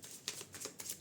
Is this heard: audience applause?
no